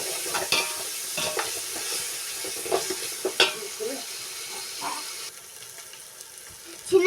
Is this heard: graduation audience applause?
no